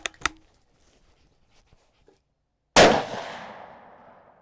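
A Ruger American rifle fires a 6.5 Grendel round, one loud close blast with a ringing, echoing tail. A few small clicks and knocks come just before it.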